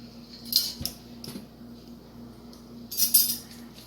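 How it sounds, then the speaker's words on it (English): A spoon clinks against a bowl while mustard is added to potato salad, giving a few light metallic taps with quiet pauses between them. "now I'm going to put in some mustard"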